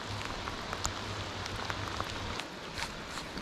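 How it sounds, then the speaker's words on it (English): Heavy rain pours down on a river during autumn salmon fishing in Washington, a dense, steady hiss of drops pattering on surfaces nearby, with a faint low hum underneath and no talking. "In this pouring rain."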